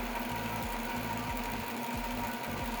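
A spinning wheel runs steadily while wool is spun, giving a loud, continuous mechanical hum with a repeating rhythmic knock from the treadle roughly every half second. No one speaks.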